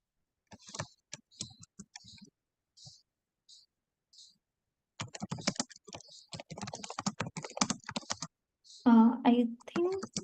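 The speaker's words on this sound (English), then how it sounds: "I think one of you is typing." Computer keys clatter in scattered bursts of clicks during an online meeting, with a person talking over the later part of the typing.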